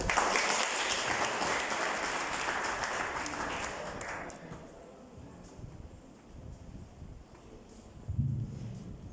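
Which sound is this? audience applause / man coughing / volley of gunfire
audience applause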